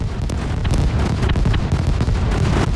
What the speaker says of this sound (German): Die ganze Welt explodiert hier.